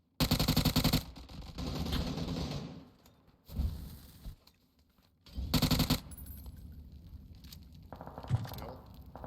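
Rapid automatic gunfire in a video game comes in loud bursts, separated by quieter stretches of softer shots, movement and faint talk.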